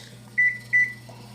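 A kitchen oven timer gives two short, clear electronic beeps in quick succession as it is set, over a low steady appliance hum.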